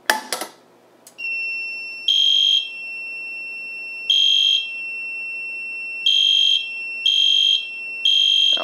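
A Simplex fire alarm sounds after a pull station is activated during a small system test: a steady high electronic tone plays throughout, with louder pulsed bursts repeating about once a second or two. It is close and loud, and no one talks.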